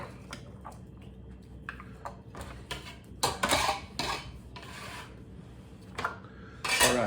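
Pork and beans from a can of Van de Kamp's, topped with onion, being spread across a pan with a utensil: repeated scraping and clinking strokes of metal on cookware, close and fairly loud, with no talking.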